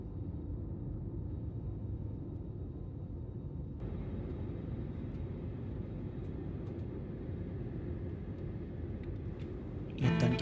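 Inside a passenger airliner taking off, a steady broad engine roar fills the cabin with a muffled rumble that swells slightly partway through, ending in a brief louder rustle.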